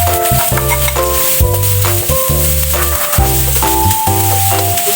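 White onions sautéing in a pan for a macaroni dish with sausage and carrots: a loud, steady sizzle sounds throughout, broken by regular scraping stirs about once a second, with a low background hum underneath.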